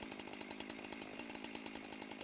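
A chainsaw in the video game Sorry We're Closed buzzes steadily with rapid pulsing chatter, a rough mechanical whine held throughout at a faint level with no voices.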